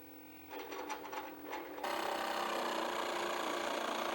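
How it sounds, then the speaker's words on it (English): Power drill boring screw holes in iron plates for a manual winnower, first in short stuttering bursts under a steady hum, then a continuous loud whirring grind of the bit cutting through metal, with no talk. "drill screw holes for fixing iron plates 1 and 3 to the side plate"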